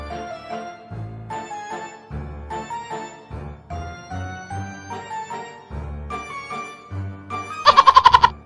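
A goat bleats with a quavering, wobbling cry near the end, loud and close, after a run of rhythmic, tonal bleat-like notes.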